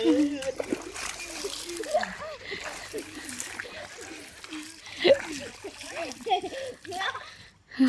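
Children splash water in a stream in Ratchaburi province, Thailand: repeated close splashes and sloshing mixed with lively children's chatter and giggles throughout.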